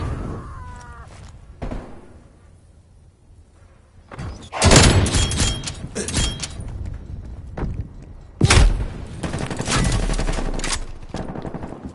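Hostile sentry turret in Call of Duty firing in loud bursts, a short rattle near the start, then heavy sustained fire from about four to seven seconds and again from eight and a half seconds onward, with quieter gaps between.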